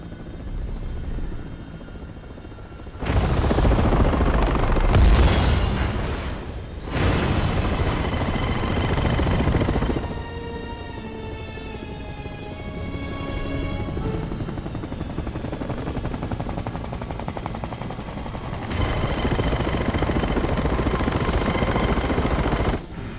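A helicopter in the video game Resident Evil 6 drones and whirs steadily throughout, swelling into louder roaring bursts at several points, with heavy impacts or gunfire-like blasts mixed in and no speech.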